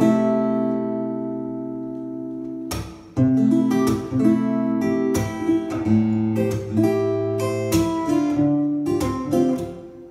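Acoustic guitar with its pickup running into a PA with flat EQ, played fingerstyle: a ringing chord fades into a run of plucked notes and bass lines, clear and close, with no talking.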